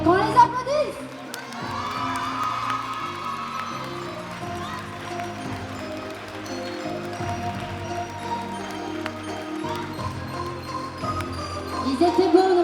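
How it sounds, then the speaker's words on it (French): Audience at a Sunday cosplay show at a convention applauding the cosplayers, a steady crowd wash of clapping and cheering with children's voices and talk mixed through, swelling louder toward the end. "Qu'on les applaudisse!"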